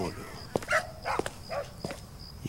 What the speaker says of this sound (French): Les chiens sont agités ce soir.